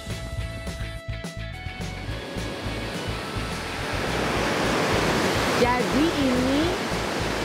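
The Punduk Kuda river rushes past in a broad, steady roar that grows louder after the first few seconds, with a brief voice speaking at the start and a faint whistle-like tone near the end.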